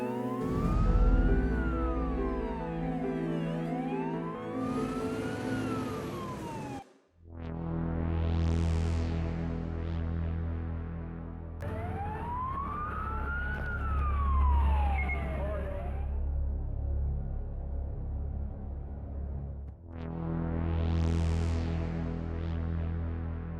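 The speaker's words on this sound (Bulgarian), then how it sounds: "към нас приближава автомобил с пусната сигнализация" Emergency vehicle siren wailing up and down on an open road, loud and close, with steady traffic rumble beneath and a short break partway through before the wail resumes.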